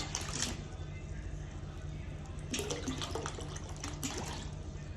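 Water poured for a pickle brine, a close splashing, trickling fill with a few brief louder bursts while a person talks over it.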